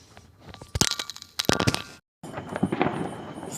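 Diwali fireworks and firecrackers burst over a city, with a few sharp loud bangs and crackling volleys amid continuous crackle, broken by a brief moment of quiet.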